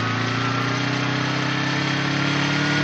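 A motorbike engine idles steadily and close, a continuous low rumbling hum with a faint buzzing edge and no speech.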